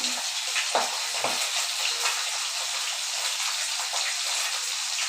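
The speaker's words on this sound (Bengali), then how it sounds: "প্রচুর ফাটে প্রচুর বুঝছেন কেমন ফাটে" Pomfret fish frying in hot oil gives a dense, continuous hiss with small popping spatters throughout, close and steady, without talk.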